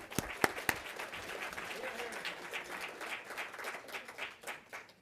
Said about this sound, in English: So please give TiE DC a round of applause